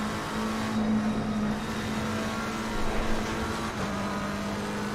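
Race car lapping Brands Hatch in Assetto Corsa Competizione: a steady, continuous engine drone with a sustained low tone and slight variations in pitch, heard alone and without talk.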